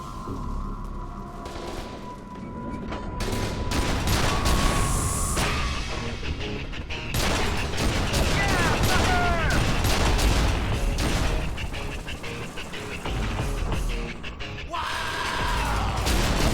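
Turret gunfire in the shooter game F.E.A.R. 2, rapid bursts of loud shots and booms with mechanical clatter, over a busy game soundscape with shouting voices.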